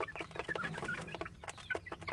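Chickens raised from purchased chicks cluck in quick, scattered bursts, fairly close and moderately quiet, with no talk.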